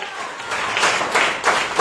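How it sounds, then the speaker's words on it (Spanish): A church congregation claps for the Lord during an evening service, a short loud burst of applause that swells in waves over under two seconds. "Denle un aplauso al Señor esta tarde."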